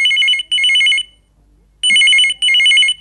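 A telephone rings in two double bursts of shrill electronic trilling, separated by a brief silence, as a call comes in to an FM radio phone-in programme.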